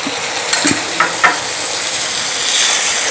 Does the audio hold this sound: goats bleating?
no